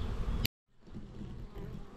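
Honey bees buzzing as they are shaken into a hive, a dense low hum that breaks off abruptly and then swells back up, steady and close.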